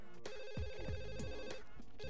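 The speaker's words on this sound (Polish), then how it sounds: "Telefon!" Telephone rings inside The Sims Bustin' Out video game, a steady warbling electronic ring that repeats alone for about two seconds, loud and close over the game's background music.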